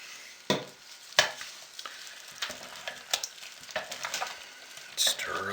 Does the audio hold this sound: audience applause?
no